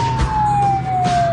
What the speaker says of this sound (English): Give him a touch of the siren.